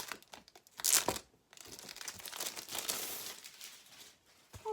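Plastic wrapping on a packet of foam board being opened, with close crinkling and tearing in bursts, one louder rip near the start, faint and intermittent overall.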